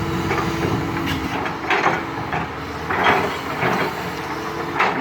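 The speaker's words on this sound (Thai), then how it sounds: "เสียงการขูดตอไม้ครับมันเยอะจริงๆฮะ" Tree stumps and roots being scraped out of laterite gravel ground at a new work site, a series of rough woody scraping and cracking bursts over a constant low engine rumble.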